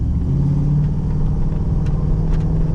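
Pontiac Grand Prix driving with its transmission stuck in one low gear: a steady, loud engine drone and road rumble held at an unchanging pitch throughout, with no shifting and no voices.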